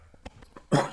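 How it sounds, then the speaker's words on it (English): A single throaty cough after a drink bursts out near the end, preceded by a few soft throat sounds and small noises, with no speech. "there's an uptick in drink-related coughing incidents on this stream"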